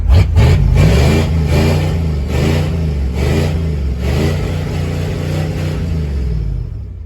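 A 1993 Ford F-150 pickup truck engine running on used motor oil, a loud, close, rough engine note that surges in repeated uneven pulses before settling into a steady run, with no talk over it.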